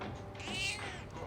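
A single drawn-out cat meow from the video game Persona 3 Reload, heard close and clear for about a second over a steady low game background.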